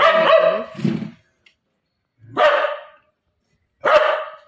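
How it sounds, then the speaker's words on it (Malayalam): A dog barks three times, loud and close, each bark separated by a second or more of silence. "ഇത് വേറൊന്നുമല്ല അതിൽ ഒരു ഡോഗ് പോണത് കണ്ടും കൊണ്ടുള്ള വിളിയാണ്"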